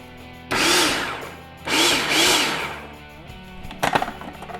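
Food processor pulsing cookie crumbs for keto Samoa cookies, three short loud whirring bursts of the motor, the last two close together, followed by quieter rattling and clatter.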